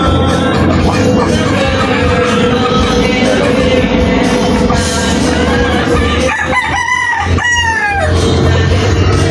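Several Peruvian-bred gamefowl roosters crow in a backyard, two or three loud crows near the end over a constant din of clucking fowl and other birds.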